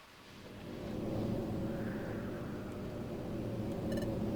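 Thunder from lightning at the summit of the time tower in Pokémon Mystery Dungeon: Explorers of Sky rises into a broad, steady rumble that holds for several seconds, with a faint chime near the end.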